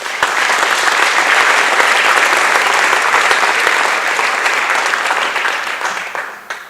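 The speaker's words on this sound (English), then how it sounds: "So give a round of applause to those guys." Loud, sustained applause from an athletic awards banquet crowd honoring wrestlers, a dense roar of many hands clapping steadily for about six seconds before tapering off at the end.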